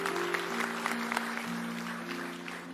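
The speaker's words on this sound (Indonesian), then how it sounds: "Kasih tepuk tangan untuk Tuhan." A church congregation applauding during a worship service, a modest patter of claps over sustained keyboard tones, fairly steady and somewhat distant, no talking.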